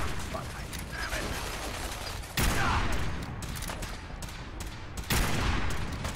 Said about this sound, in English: You don't understand the power of the 50 cal that shoots two bullets. And my, you know, dude's minigun.